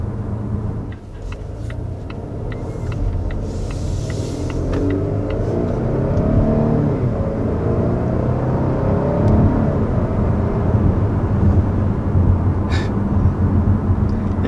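A 2020 Volvo S90 T6 four-cylinder engine drones and rumbles from inside the cabin while driving, building gradually in a smooth, steady acceleration with no talking over it.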